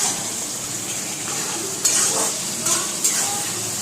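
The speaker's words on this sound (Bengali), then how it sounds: "এবার গ্যাসটা কমিয়ে বাড়িয়ে আস্তে আস্তে পেঁয়াজটা ভাজা ভাজা করে নেব।" Onions with a pinch of salt sizzle steadily in a hot pan on a gas stove, with a continuous frying hiss and a few soft stirring scrapes, no talk.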